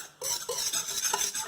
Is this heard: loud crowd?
no